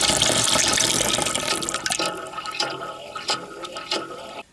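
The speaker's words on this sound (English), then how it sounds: "We're going to turn this water supply off here, and then we're going to wait for this tank to empty." Water rushing and draining from a loft heating header tank after the supply is shut off, a loud gurgling flow that fades into quieter trickles and splashes.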